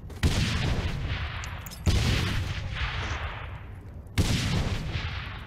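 Three heavy gunshot blasts in Saints Row The Third, each a sharp loud crack followed by a long booming decay, spaced about two seconds apart with no talking.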